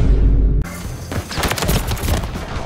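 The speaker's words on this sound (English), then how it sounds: "I'm firing a Drake missile inbound." Dense rolling explosions and crackling impacts from a Drake missile strike in an online 1v1 video game match, loud and close, following a low rumble that cuts off abruptly.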